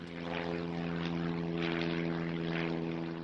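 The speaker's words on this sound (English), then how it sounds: "Many of them arrive on their corporate jets at the nearby Sonoma County Airport." A corporate jet at Sonoma County Airport drones steadily in the distance, a faint, even engine hum with strong low tonal bands and a softly surging upper rush, no voices present.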